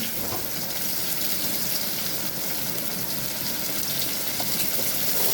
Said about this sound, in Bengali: তারপর আমি এতে পেঁয়াজ কুচিটা দিয়ে দেব।